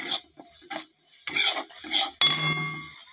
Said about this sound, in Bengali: দিয়ে এবার নেড়ে নিলাম মশলাটা